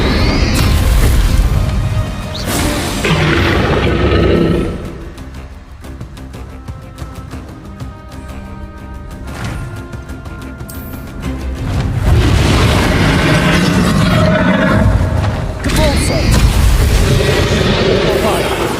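Spell explosions from Confringo and Bombarda in Hogwarts Legacy, with loud booming blasts and bursts in heavy bouts. A voice shouts spell names over them.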